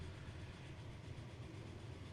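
A train in the Transport Fever video game rolls along with a steady low rumble and faint rail noise, a continuous hum that stays even throughout with no talk over it.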